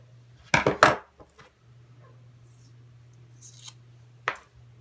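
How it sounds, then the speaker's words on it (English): Scissors snip through material for a Christmas craft: two sharp close cuts in quick succession, then a lone fainter snip a few seconds later over a low steady hum, with no talk. "it looks like we just need to snip a little bit of that edge off"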